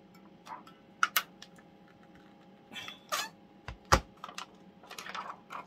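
An album binding machine being pressed during a cover-binding job, giving scattered sharp clicks and clacks at irregular intervals, close and fairly loud, with quiet gaps between them and a low steady hum underneath.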